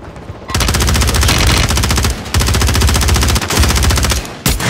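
Loud, continuous automatic gunfire from a video game bursts in long sustained volleys with brief pauses between them, dominating the sound with no talk over it.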